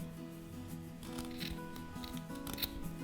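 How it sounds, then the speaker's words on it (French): Scissors snip crochet yarn while a granny-square blanket is being finished, giving a few soft, close cuts over steady background music with no talking. "on va couper notre fil ici. On laisse une bonne petite marge. On va couper ici."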